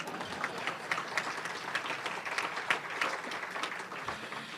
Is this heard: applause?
yes